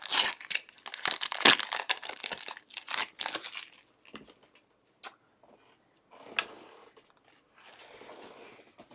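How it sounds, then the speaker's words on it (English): A foil pack of 2019 Topps Fire gold minted baseball cards torn open up close, with loud bursts of crinkling and ripping foil that give way to sparse, quieter rustles and a final soft crinkle. "I'm going to open up these gold minted foil cards"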